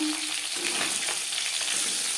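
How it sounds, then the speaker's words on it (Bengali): Latha fish (snakehead) sizzles and crackles steadily in hot oil in a wok, a close, continuous frying hiss with no talking. "মাছ ভাজা হয়ে গেছে একটা পাত্রে উঠিয়ে দেবো"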